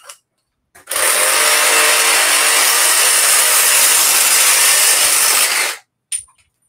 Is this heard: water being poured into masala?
no